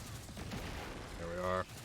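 A Strand Warlock super ability fires in Destiny 2, a short dense burst of crackling, gunfire-like blasts that ends in a sustained, tonal energy hum before cutting off.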